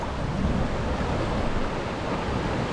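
Ocean waves wash onto Tyrico Beach, a small sliver of sand on the North Coast Road past Maracas. The surf is a steady, loud, continuous hiss with some wind buffeting the microphone.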